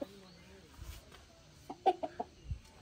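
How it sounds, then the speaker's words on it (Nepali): Chickens in a mountain village in Lamjung, Nepal, give a quick burst of close, short clucks in the second half, with quiet outdoor ambience around them. "कुखुरा"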